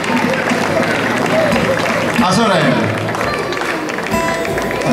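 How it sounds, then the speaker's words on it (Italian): A crowd applauds a woman singer from an old-song folk music group at a mid-August village gathering, with a thick, even wash of clapping while someone talks over it. "un applauso a lei"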